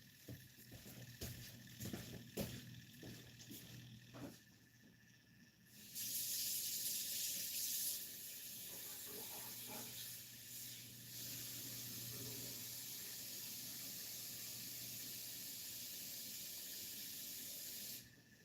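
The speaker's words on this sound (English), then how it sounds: "I'm going to go put some water in this thing real quick." Tap water runs steadily into a container at a custom fishing rod building bench, a continuous hissing rush that starts after some handling clatter and holds evenly for about twelve seconds.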